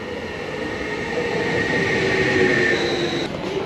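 A packed train pulls into a station in Germany on the way to Stuttgart with a steady loud rumble, faint wheel squeals and a rising whine as it slows, close by, with no speech.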